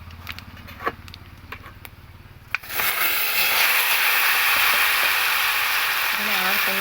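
Boiled taro greens drop into hot oil tempered with dried chilies and bay leaf: after a few light clinks, a sudden loud, steady hissing sizzle erupts and continues, with a faint voice near the end.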